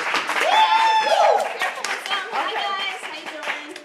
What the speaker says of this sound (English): please, guys, give us a huge round of applause for Anais